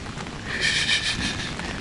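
Steady rain falls outside an RV during a thunderstorm, a soft, even hiss of drops with faint patter on surfaces and no voices.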